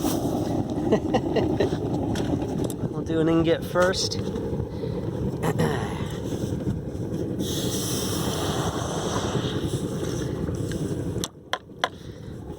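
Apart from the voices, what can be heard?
molten aluminum quenched in water, sizzling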